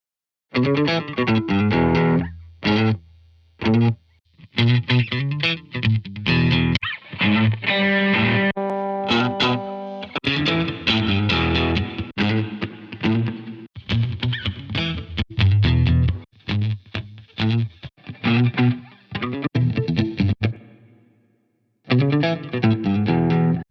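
Distorted electric guitar plays chords and riffs through classic amp simulator presets with short pauses between phrases, its tone shifting through different amp sounds, loud and close.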